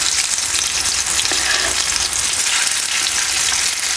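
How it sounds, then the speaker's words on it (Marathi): A potato and besan snack sautés in a pan with a loud, dense, unbroken sizzle and crackle of hot oil throughout, close up and with no voices. "सगळ्या बाजूने असं आपण पलटी करून आहे ना आपण हे परतून घेऊया"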